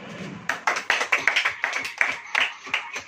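A church congregation claps hands during a sermon, a run of about a dozen sharp, rhythmic claps at an even beat, close and fairly loud, with no voices over them.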